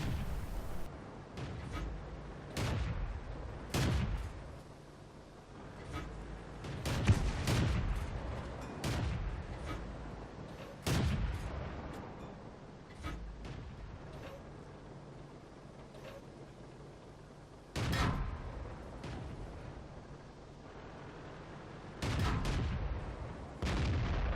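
Tank cannon fire in World of Tanks, heard as several loud booming shots spread irregularly over a low rumbling background of engine and battle noise, with no talk.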